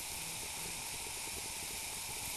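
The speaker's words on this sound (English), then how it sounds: "You can see that's a good rolling boil in there." Water at a rolling boil inside a Kelly Kettle fired with pine cones, a steady close hissing, bubbling roar that holds level and unbroken throughout with no voices.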